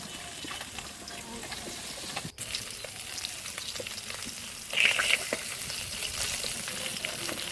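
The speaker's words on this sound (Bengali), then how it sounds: "মাছ ভাজা হয়ে গিয়েছে, তুলে নেব।" Fish frying in hot oil for a fish curry, a steady close sizzle with occasional stirring and scraping, briefly louder near the end.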